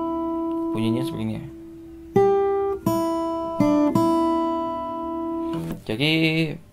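Guitar melody from a song played on a plucked acoustic guitar: a handful of clear picked notes, some ringing and some in quick clusters, fairly close, with no talking.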